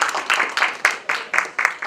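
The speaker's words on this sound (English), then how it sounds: "A big round of applause, definitely, everybody." A conference session audience claps to welcome the session chairperson, a steady rhythmic round of applause with evenly spaced bursts, close and fairly loud.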